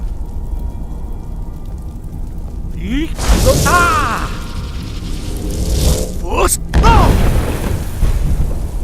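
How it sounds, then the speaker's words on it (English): A loud Unrelenting Force shout from Skyrim bursts out twice, each a booming, distorted voiced blast with a rushing whoosh, the second one harsher and sharper, set over a constant background rumble. "Use your unrelenting force shout to strike the targets as they appear."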